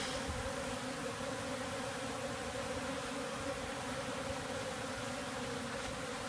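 A honey bee swarm drones inside a bucket, a dense, steady buzz that holds close and even throughout, with no voices.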